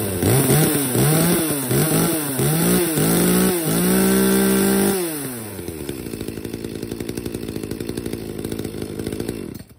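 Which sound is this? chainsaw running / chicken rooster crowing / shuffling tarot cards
chainsaw running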